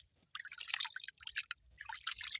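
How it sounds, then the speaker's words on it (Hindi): Water seeps up into a small hole dug in the sand of the Ravi riverbank, giving faint, quiet trickling and dripping sounds in irregular bursts, heard close up. "ये पानी निकल आया दरिया पे।"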